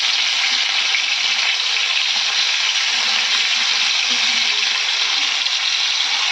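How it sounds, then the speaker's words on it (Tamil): Kaanangathai fish frying in oil for a pepper masala fry, giving a steady, dense hiss that runs unbroken at even loudness close to the pan, with no talk over it. "இப்போ அதை பொரித்து எடுத்துக்குவோம்"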